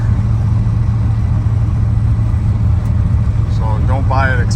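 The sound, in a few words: 1986 Chevrolet C10 pickup truck driving down the road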